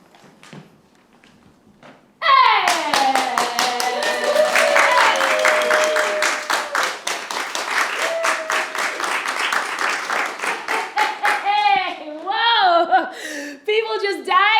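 Classroom students break into sudden, loud applause after a quiet moment, a dense crackle of hand claps with cheering voices mixed in that carries on steadily throughout.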